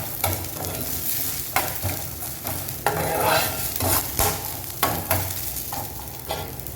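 Garlic and green chillies fry in a pan for mint chutney, a loud continuous sizzle broken by regular scraping stirs every second or so, up close and without speech.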